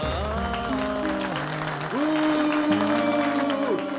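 Audience applause for a singer, a steady wash of clapping under a loud band of sustained, gliding musical tones, continuous for about four seconds.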